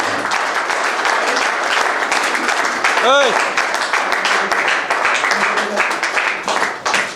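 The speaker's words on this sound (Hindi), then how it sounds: "एक जोरदार ताली हो जाए" A crowd at a family honouring ceremony breaks into strong, continuous applause, loud and close throughout, with a brief tonal whistle-like sound cutting through midway.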